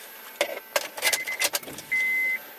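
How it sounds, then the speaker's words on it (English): A Honda Accord ignition key jingles and clicks as it is handled inside the car, giving a few sharp metallic taps and rattles over a quiet background, followed by a short steady electronic tone. "Take our ignition key."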